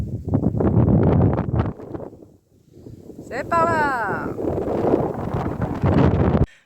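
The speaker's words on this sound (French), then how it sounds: "Ouh, il y a du vent." Wind gusts buffet the microphone on a hiking trail of the GR 97 in the Luberon, with a short French spoken remark over the roar and a brief whistling squeal midway.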